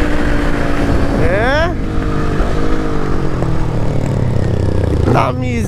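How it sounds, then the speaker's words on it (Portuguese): A motorcycle roars at high speed on a straight road, loud and close, its engine pitch sweeping up through gear changes under wind noise, with voices talking over it. "A motinha tá boa, hein?"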